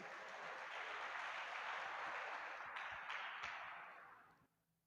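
A congregation at a Portuguese-language church celebration service claps steadily, a broad crowd applause that holds evenly and then fades out near the end.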